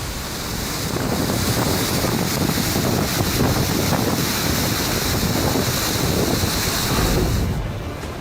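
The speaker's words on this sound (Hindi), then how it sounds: "पहाड़ का सीना चीरकर जमीन पर गिरते पानी का ये वीडियो देख लीजिए।" Muddy water carrying stones rushes down a mountainside onto National Highway 505 on the Kullu to Lahaul Spiti road, a loud, steady roar of torrent and wind noise running unbroken throughout.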